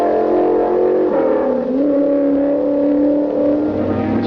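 Racing engines at the 1967 12 Hours of Sebring endurance race, including Ford Mark IV, Ford Mark II and Chaparral sports prototypes, drone loudly and steadily, the pitch sliding down then rising as cars pass near.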